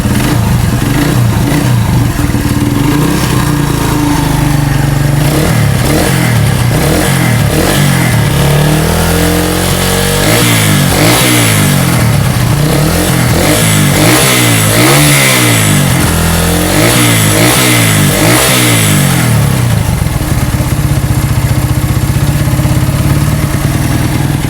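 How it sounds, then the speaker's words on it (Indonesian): Motorcycle engine after a compression repair, started and then revved repeatedly, its loud, close exhaust rising and falling in quick surges before settling back toward idle. "coba kita hidupin motornya"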